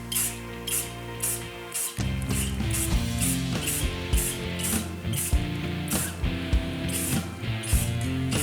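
Rapid bursts of aerosol spray paint hiss in a repeated rhythm during a custom paint job on an Intruder motorcycle, layered over a steady tonal background with no talking.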